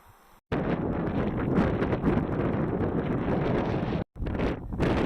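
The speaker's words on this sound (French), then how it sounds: "Le vent était tenace aujourd'hui." Strong wind buffets the microphone in a heavy, roaring rush on open plain near Saint-Jouin-Bruneval, Seine-Maritime, cutting out briefly near the end before gusting back in.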